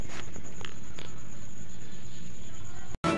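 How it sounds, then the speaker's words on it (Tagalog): Rain falls during a stormy typhoon day as a steady, even hiss close by with a few faint taps, cut off abruptly near the end. "Kaning ulan yun."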